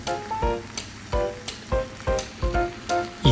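A5 wagyu beef steak, a Kumamoto Akune Japanese black wagyu shoulder cut, sizzles on a teppanyaki iron griddle, crackling steadily with repeated sharp spatter bursts, close and loud with no talk.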